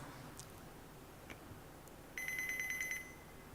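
A driver fatigue warning alarm sounds in a vehicle cockpit, a quiet interior hum broken by a burst of rapid, sharp, shrill beeps lasting under a second, fairly loud and close.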